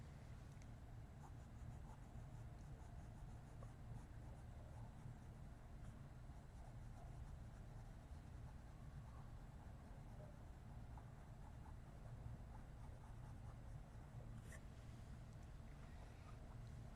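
An eraser rubs over a pencil drawing on paper in a steady, soft, scratchy friction that runs continuously and faintly, with no one talking.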